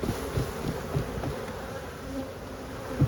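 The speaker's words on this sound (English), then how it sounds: "Let me just drop the bees off of it." A dense swarm of honey bees hums steadily nearby at a hive, with individual insects buzzing past the microphone.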